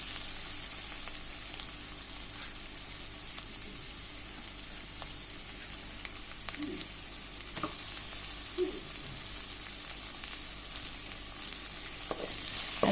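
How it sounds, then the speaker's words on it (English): Finely cut onions and curry leaves frying with garlic and ginger in a pan, a steady hiss of sizzling oil with occasional spoon scrapes and stirring knocks, close and without speech. "I'm going to fry this till the onions are translucent."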